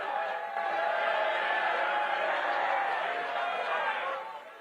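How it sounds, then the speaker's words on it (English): A large crowd at a Libertarian Party convention presidential debate erupts in a sustained roar of booing and jeering, loud and continuous for several seconds before tapering off. "Get your booing out"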